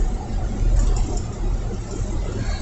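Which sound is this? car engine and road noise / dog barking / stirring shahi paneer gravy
car engine and road noise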